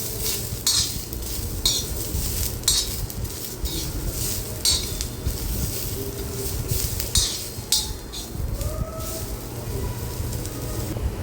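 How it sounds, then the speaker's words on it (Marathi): Onion, garlic and ginger roast in a pan for a village-style egg curry, a steady sizzle under frequent scraping spoon strokes and clinks against the metal, close and continuous. "कांद्यासोबतच मी लसूण पण टाकते आणि थोडंसं आलं घेतलेलं ते पण टाकते हे सगळं आपण व्यवस्थित भाजून घ्यायचं आहे"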